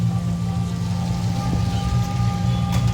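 Rain falls steadily at a market in Nepal, a constant even patter with a low hum underneath and no voices.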